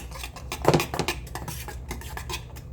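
Curry-seasoned pasta with rainbow trout and cheese is mixed in a dish, with clinking and scraping of a utensil against the bowl in irregular bursts, louder near the start, under a low background hum.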